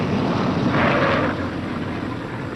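A damaged B-17 bomber comes in for a rough landing in a WWII documentary, a loud, broad roaring rush that swells to a peak and then eases into a steady, lower drone, with no talking over it.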